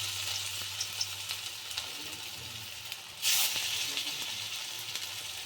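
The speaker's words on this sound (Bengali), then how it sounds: "রিফাইন্ড অয়েল গরম হয়ে যাওয়ার পর মেখে রাখা পটলটা আমি এইভাবে ছোট ছোট বড়ার আকারে ভেজে নিচ্ছি" Small flattened pointed gourd fritters frying in hot refined oil give a steady close sizzle and hiss, with a louder burst of crackling partway through.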